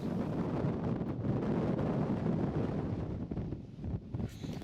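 Wind roars across a hillside wild camp on Rannerdale Knotts, a loud, continuous rumbling buffet against the microphone that eases slightly near the end.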